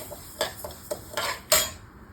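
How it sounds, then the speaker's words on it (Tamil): Moong dal roasted dry in a kadai, a few sharp metallic scrapes and clinks of a ladle against the pan in an irregular rhythm, close and otherwise quiet. "இதையும் சேர்த்து நல்லா வறுத்துக்கோங்க."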